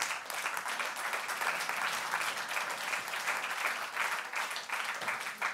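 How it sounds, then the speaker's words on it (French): An audience at a business leaders' conference in Avignon applauds a guest being welcomed onto the stage. The clapping is steady, dense and fairly loud, holding evenly throughout with no voices over it. "Je vous demande de l'applaudir."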